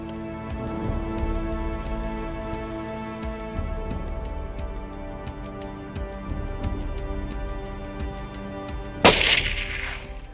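A single sharp rifle shot rings out near the end, fired at an ostrich during an African safari hunt, loud and sudden against a quiet outdoor background of steady tonal hum and faint ticks.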